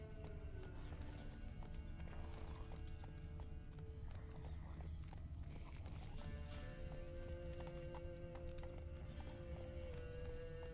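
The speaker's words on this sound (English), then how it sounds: "Run, Roach." A horse gallops along a road in the video game The Witcher 3, its hooves drumming in a steady, fast clip-clop that runs throughout with an occasional whinny and game music underneath.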